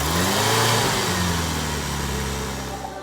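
A go-kart fitted with a 1500 51-horsepower engine accelerates with a steady, loud mid-pitched engine drone and rising harmonics, staying close and continuous throughout.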